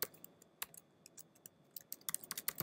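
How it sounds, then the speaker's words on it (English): Quick, irregular keystrokes on a computer keyboard, sparse at first and then bursting into denser typing near the end, close and fairly quiet with no voices. "Just fix my typing there."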